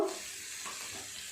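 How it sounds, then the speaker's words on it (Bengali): Tomato and ginger frying in a pan while being stirred, giving a steady close-up sizzle with a soft scrape of the stirring near the start and no voices. "টমেটো, আদা এইভাবে একটু নেড়ে চেড়ে কাঁচা গন্ধটা চলে গেলে তারপর মশলা দিয়ে দেব"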